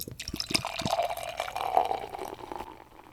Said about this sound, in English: You can drink yours out of the can. I'll pour mine.